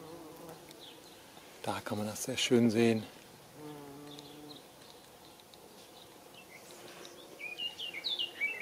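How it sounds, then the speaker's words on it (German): Honeybees and bumblebees buzz steadily around flowering bush beans in a garden, with one louder close pass, while someone talks over the humming and birds chirp faintly in the distance. "Und hier summt und brummt es ordentlich."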